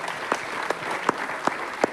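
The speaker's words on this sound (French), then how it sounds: "Merci à nos invités qu'on peut applaudir avec chaleur." A conference audience applauds its guests warmly: sustained, dense clapping from a crowd with a few sharper claps standing out near the microphone, steady throughout and free of speech.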